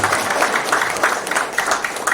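Applause from an audience at a thanksgiving prayer service for an election campaign team, a dense stretch of clapping with uneven swells, moderately close and continuing for the whole moment.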